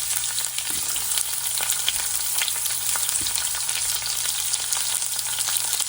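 Onions frying in hot oil alongside whole spices and dried chillies, a dense, loud, continuous sizzle with fine crackles and occasional soft stirring knocks, close up and without any voices.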